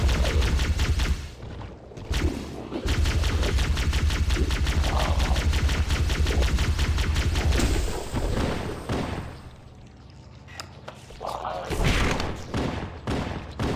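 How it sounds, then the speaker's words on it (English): Repeated gunfire in the Halo 1 video game, loud dense volleys with heavy booms, pausing briefly and then resuming in bursts. "Who's shooting the shotgun?"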